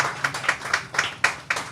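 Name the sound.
audience applauding at a ceremony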